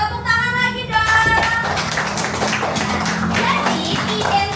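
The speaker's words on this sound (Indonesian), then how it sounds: "Tepuk tangan lagi dong" Classroom students clap their hands together for a few seconds, a brisk burst of overlapping claps that start abruptly and carry on steadily.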